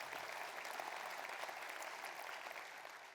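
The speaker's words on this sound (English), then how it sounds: "give her a big applause" An audience at the ICT&health World Conference claps for a speaker, a dense, even wash of applause that holds steady and eases off slightly near the end.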